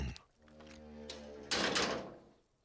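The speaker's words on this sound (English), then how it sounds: "Wasn't very much of a gong." A muffled gong is struck in a video game, giving a dull, steady ringing tone that fades into a louder, noisy clatter partway through, with no talking.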